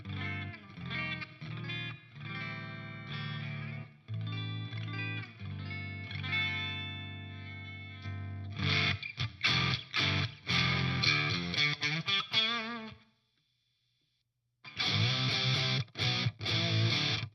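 Electric guitar playing through an Enya Nova Go Sonic's stock amp emulations into an amplifier, chorused and distorted chords and riffs, loud and close, with a short pause before more strumming.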